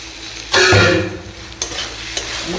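Egg curry stirred and mixed in a hot pan, with a loud sizzling scrape that swells near the start and is followed by lighter spoon scrapes over a steady frying hiss.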